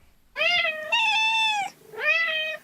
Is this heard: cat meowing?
yes